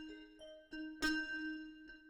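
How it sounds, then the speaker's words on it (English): Tubular bells preset on a Kawai K3 digital synthesizer from 1986: a bright metallic strike rings out with long sustained overtones, following a softer held tone, alone with no voices. "of course, we need some tubular bells."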